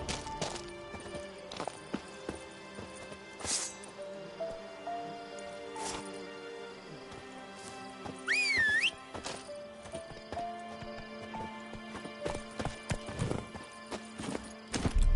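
Hoofbeats of a horse clip-clopping steadily throughout in The Witcher video game, mixed with ambient game sounds, with a brief whinny around the middle.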